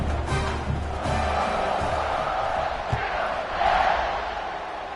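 A stadium crowd roars before a college football kickoff in a Baylor dynasty video game, a dense continuous swell of cheering that builds near the end, with no speech.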